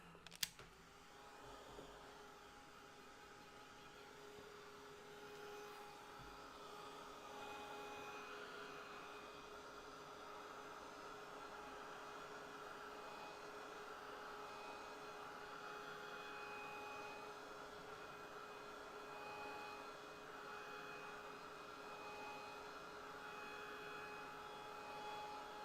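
A hair dryer blows steadily to dry a watercolor painting, giving a soft, even whirring hum with a faint motor whine. It starts with a small click and runs unbroken at low volume, with no talking.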